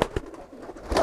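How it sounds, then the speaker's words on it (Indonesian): A black-feathered kolong pigeon gives a brief, soft cooing call close by, with a couple of short throaty pulses in about a second. "Nah, ini merpati kolong nih, warnanya antik nih, hitam nih."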